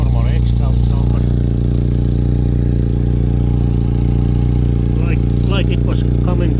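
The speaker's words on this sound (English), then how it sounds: "Here is the normal exhaust sound" A Mercedes SLK 230 exhaust idles with a steady, close, low droning rumble and a faint ticking layer throughout, sounding continuous and even.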